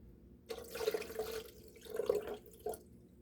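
Water is poured in short bursts into a container for making almond milk, splashing and trickling with a few pauses between pours.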